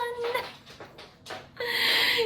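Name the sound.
dogs whimpering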